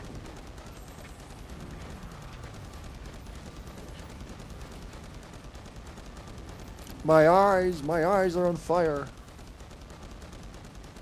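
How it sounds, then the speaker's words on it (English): Rapid, steady cannon fire from the Gigantic: Rampage Edition PC game runs as a dense background barrage throughout, with a louder voice speaking briefly over it near the end. "Man, that cannon sounds like it's on crack"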